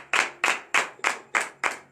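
A church congregation claps during a French-language morning prayer service in Benin, seven sharp, evenly spaced rhythmic claps in unison, close and crisp with no talking over them.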